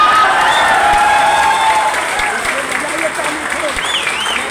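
An audience at a speech claps together, a dense, loud, sustained wash of applause that stays steady throughout without fading.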